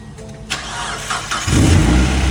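A project car's engine cranks and catches after its cam sensor was swapped, short starter bursts building into a loud, rough low rumble that settles into a steady idle nearby.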